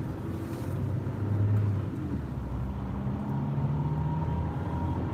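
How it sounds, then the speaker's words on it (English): Low rumbling drivetrain noise from a car with a grinding transmission, a steady droning hum with shifting low tones throughout, fairly loud and continuous with no talking. "if you guys can hear the transmission through the phone, but that's what that grinding sound is"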